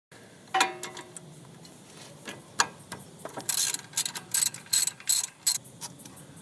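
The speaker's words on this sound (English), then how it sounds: "you got to put the Allen key here and then use a spanner to loosen it off" An Allen key and spanner work a strut top nut loose, giving a sequence of sharp metallic ratcheting clicks and ticks, sparse at first then quicker and denser, close and fairly quiet.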